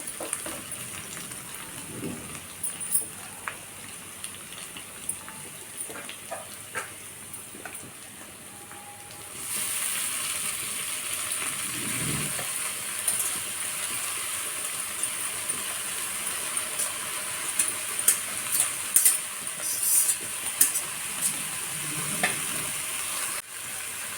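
Chopped dill greens drop into a hot pan and are sautéed, and a steady sizzle swells louder partway through, with occasional spatula scrapes over the continuous frying hiss, close up and without speech.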